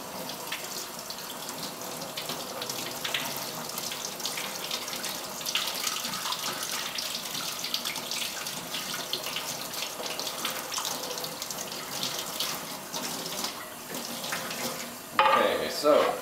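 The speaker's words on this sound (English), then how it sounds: "Rinse." Tap water runs steadily while rinsing a limestone or marble kitchen surface, a continuous splashing rush with scattered brighter splatters and a louder gush near the end.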